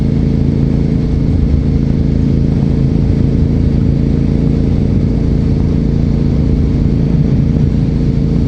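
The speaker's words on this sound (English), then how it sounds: "there's a quarry up ahead, so there's a lot of truck traffic through here" Heavy truck traffic on Brock Road in Flamborough, Ontario, near a quarry, a loud continuous engine roar and rumble of passing vehicles close by, steady throughout.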